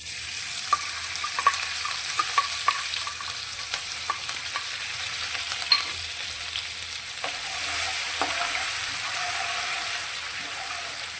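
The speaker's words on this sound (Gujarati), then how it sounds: "આપણા આદુ મરચાં પણ એકદમ સરસ રીતે સંતળાઈ ગયા છે" Ginger-chilli paste sautéing in oil in a kadai, an even close sizzle broken by repeated light taps and scrapes of a spatula against the pan over several seconds, with no voices.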